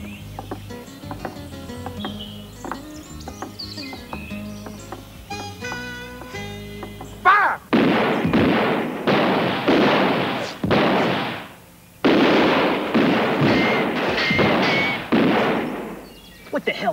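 Heavy gunfire in a 1990 action film, with a rapid series of loud, close bursts and bullets flying, following a stretch of music.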